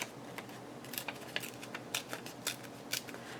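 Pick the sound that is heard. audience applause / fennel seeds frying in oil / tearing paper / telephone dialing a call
tearing paper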